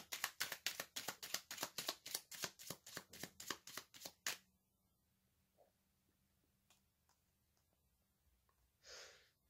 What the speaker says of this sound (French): Je vais poser la pierre ici et je vais tirer un oracle.